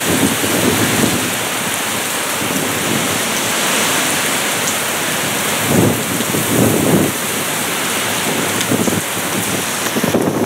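Heavy monsoon downpour during an Arizona thunderstorm, a steady loud hiss of rain hammering surfaces with low rumbling thunder swelling repeatedly underneath, close and continuous with no voices.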